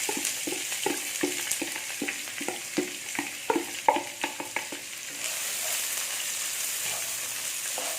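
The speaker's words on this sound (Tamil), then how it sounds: "இது நல்லா வதக்கிடுது" Three large chopped onions sautéing in oil for an egg omelette kuzhambu, a steady sizzle broken by a quick run of rhythmic spatula scrapes, then the hiss settling alone.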